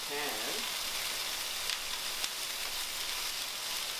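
Steak searing in a smoking hot pan gives off a steady, loud sizzle that runs unbroken from start to finish, with a brief brighter crackle near the beginning.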